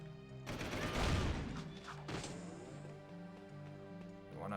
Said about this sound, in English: the exact same cannons that come online if we're driving past while being chased by the guards